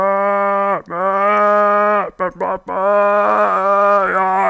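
Minecraft sheep bleat in long, loud, nasal cries, two sustained calls broken by a short stuttering burst in between, close and dominating with no other sounds.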